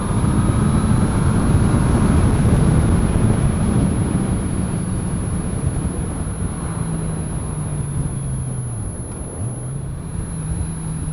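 A 2014 Honda F6C motorcycle's flat-six engine drones loud and steady while riding on the road, its low tone rising and falling as the throttle shifts, with heavy wind rush throughout.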